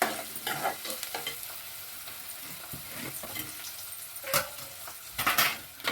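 Onions sizzle steadily in a pan while a spatula stirs and scrapes them, with a few sharper scraping bursts near the end, close and without speech.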